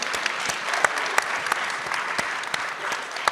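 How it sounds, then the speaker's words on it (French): Audience applause at an opening-night round-table in France, dense continuous clapping with sharp individual claps standing out, loud and close. "je crois qu'on peut applaudir"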